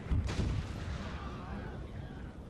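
Distant artillery bombardment in the Total War: Fall of the Samurai battle, one heavy boom followed by a rolling, fading rumble.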